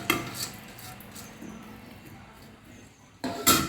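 Cut beeswax pieces are moved into a container while making homemade lip balm, with a clink of utensil on container at the start and a sharper clatter near the end, separated by a quiet stretch.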